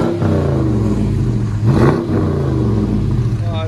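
Dodge Charger Scat Pack with a 6.4L HEMI V8 and muffler delete, idling with a loud, deep rumble close by, rising briefly in a rev before settling back to a throbbing idle.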